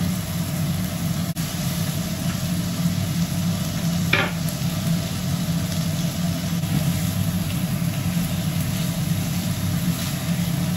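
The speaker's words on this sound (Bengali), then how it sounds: "এবার আমি এর মধ্যে মাটনগুলো অ্যাড করে দিলাম" Mutton pieces frying in a pan with cooked-down tomato give a steady, close sizzle with faint stirring scrapes, and no voices.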